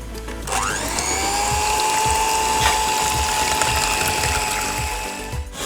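An electric mixer beats eggs with vanilla powder for a vanilla wedding cake batter, a steady whirring motor with a rising then level whine and faint rhythmic clicking, running continuously throughout.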